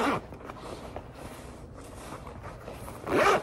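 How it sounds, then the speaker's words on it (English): A zipper on the inside pocket of a travel art-supply bag is pulled open, a short rasping burst at the start and another near the end, close and fairly quiet, with no talking. "The inside of the bag has a zipper pocket."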